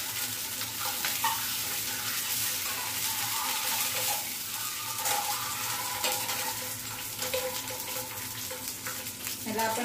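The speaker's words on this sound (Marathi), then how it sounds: "पॅन मध्ये फ्राय करून घ्यायचे" Eggs fry in a pan with a steady, crackling sizzle, broken by scraping stir sounds and a few faint watery splashes, with no voices over it.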